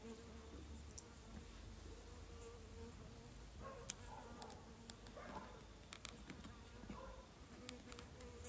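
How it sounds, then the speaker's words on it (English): Honey bees buzz steadily across a hive frame built out from a small strip of foundation in a split, a faint, low, continuous drone with scattered brief ticks and no talking. "Plenty of bees on it."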